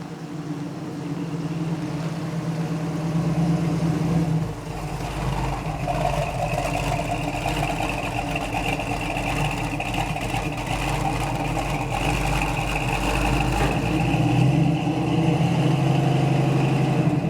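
A 1970 Dodge Challenger R/T convertible with a loose torque converter drives slowly in the rain, making a steady, moderately quiet engine drone that shifts in pitch partway through, with no talk over it.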